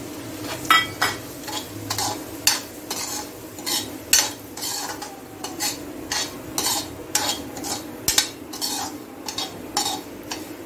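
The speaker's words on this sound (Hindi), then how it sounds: "अब हम इसी घी में रवा को भी रोस्ट करेंगे।" Semolina roasting in ghee in a pan for upma, stirred continuously with a metal spoon that scrapes and clinks in regular strokes over a faint sizzle, close and moderately loud.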